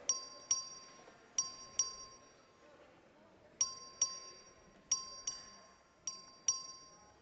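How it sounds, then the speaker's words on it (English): The Texas House voting bell is rung by the clerk: a series of about a dozen clear, bright metallic dings, mostly in close pairs separated by short pauses, each ringing out and decaying in a quiet chamber. "Clerk, ring the bell."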